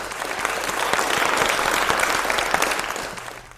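Steady studio audience applause on a Hindi health talk show, a dense wash of many hands clapping at an even level that fades slightly toward the end.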